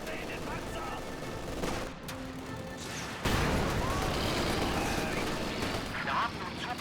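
Tank fire and gunfire in Company of Heroes 2, with a roar of bursts and crashing impacts that grows louder partway through and keeps going, mixed with shouted voices.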